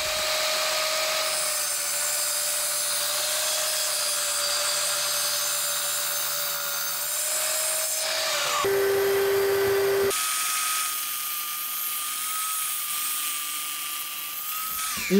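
A power saw whines steadily through a cut in wood for a wall-mounted bike rack, its pitch dropping briefly under load near the middle before rising again and running on to the end.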